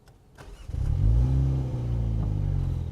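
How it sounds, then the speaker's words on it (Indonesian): A 2020 MINI Cooper JCW four-cylinder turbo engine starting: a brief starter whir, then the engine catches into a loud, deep idle that settles and holds steady, close by. "Suaranya lebih keras dari Mini biasa."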